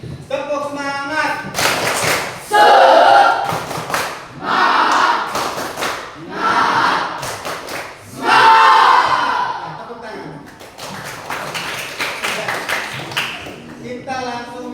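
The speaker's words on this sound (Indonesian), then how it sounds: "kita tepuk semangat dulu. Tepuk semangat." A class group performs the 'tepuk semangat' spirit-clap chant before presentations, with loud bursts of rhythmic clapping alternating with shouted chanting voices in several distinct phrases.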